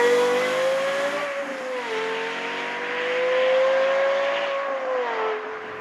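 Lexus LFA front-engine sports car revving hard to around 9,000 rpm while driving, a loud, sustained high-pitched engine wail that rises and dips slightly with shifts, close and alone with no voices.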